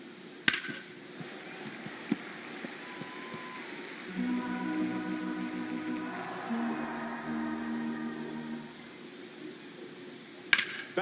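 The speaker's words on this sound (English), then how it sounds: "the field's not going to be able to hold up if the rain gets any worse than this" Steady rain hisses over a baseball field in MLB The Show 25, a continuous wash running the whole time, with low game music or crowd tones in the middle and a couple of sharp clicks near the start and end.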